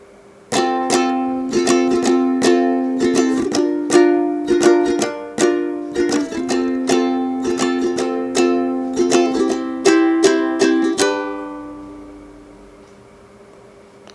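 Ukulele strums a steady rhythmic pattern for the pre-chorus of a song, crisp repeated strokes with chord changes, ending on a let-ring chord that fades out, no voices.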